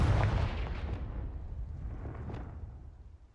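Confringo explosion spell in Hogwarts Legacy, one heavy boom with a rumbling, crackling tail that fades out over about three seconds.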